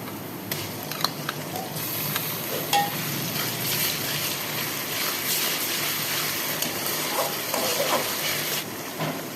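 Ginger garlic paste frying with golden-browned onions in a pan for a moong dal tadka, giving a steady, close sizzle with a few stirring scrapes and small pops throughout.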